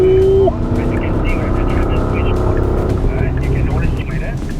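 A Porsche Cayenne e-hybrid SUV pulls hard on the Sepang track, its engine droning loud and steady from inside the cabin, with a voice over it.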